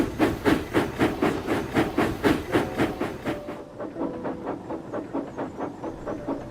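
A steam locomotive chuffs in a steady, rhythmic beat of hissing puffs, loud at first and then softer and muffled, with a faint whistle tone.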